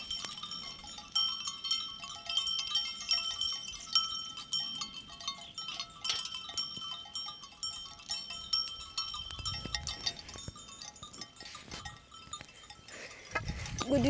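Sheep and lambs bleat faintly and intermittently while being herded outdoors, with metallic bell-like clinks scattered over a soft, unsettled background.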